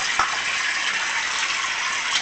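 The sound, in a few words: water running from a sink tap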